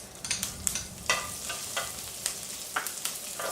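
Onions drop into hot oil where mustard seeds are spluttering for a Kerala-style koottucurry, giving a soft frying hiss with scattered sharp pops and crackles spread across a few seconds.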